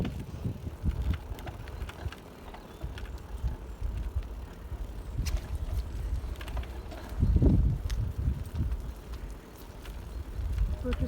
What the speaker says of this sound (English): There is some wind because there's a wind turbine going round.